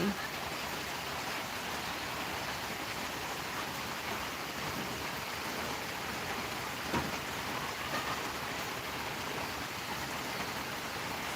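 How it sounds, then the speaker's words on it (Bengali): Steady, even rain pours down through a long wet day, a dense continuous hiss with no breaks and no clear nearby voices. "সারাদিন বৃষ্টি হইতেছে"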